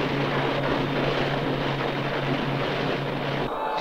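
Science Patrol Beetle aircraft from the 1966 Ultraman series flying, a steady loud engine drone with a low hum that holds throughout, then cuts off sharply near the end.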